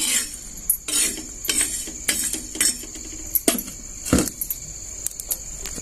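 Fried peanuts tipped into a cooking pan for a Marathi green vegetable dish in black masala: a soft scatter of light clinks, rattles and spoon knocks in irregular bursts, with no talking.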